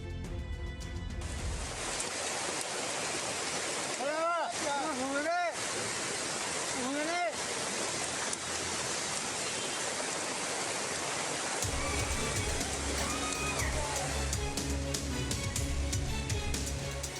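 Floodwater rushes in a strong, continuous roar after an earthquake in Pacitan, East Java, with loud broadband noise throughout and brief faint tonal sounds and a shift in the mix partway through.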